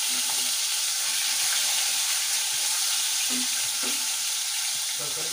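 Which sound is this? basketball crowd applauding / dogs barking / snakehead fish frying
snakehead fish frying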